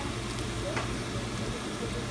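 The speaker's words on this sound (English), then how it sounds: "now that onions are fried, we're gonna add our shredded carrots" Onions and shredded carrots sizzling and frying in a pan for green sorrel borscht, a steady close hiss that runs without a break.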